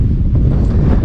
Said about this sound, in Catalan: fot un vent impressionant